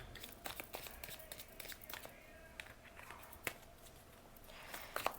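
Round tarot cards are shuffled by hand, giving soft papery rustles and light scattered taps at low volume, close by against a faint background hiss.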